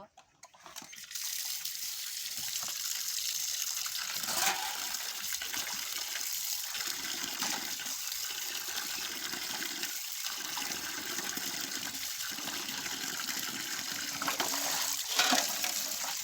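Cut chicken pieces rinsed under running tap water in a kitchen, a steady gushing stream with splashes and brief interruptions as the meat is moved, alone without talk.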